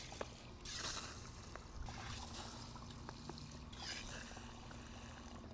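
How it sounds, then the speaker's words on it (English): Water is poured onto soil where seeds were planted in a garden bed, quiet trickling in a few soft bursts with small drips between. "I'm just gonna add a little water to where we planted seeds."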